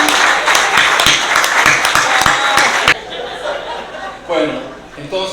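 An audience at a book presentation applauds a teacher with a sharp burst of clapping that stops suddenly. Scattered chuckles and murmured talk follow in the room.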